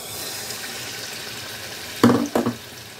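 A bread egg ball chop coated in batter drops into hot oil with two quick, loud splashy sizzles over a steady background hiss.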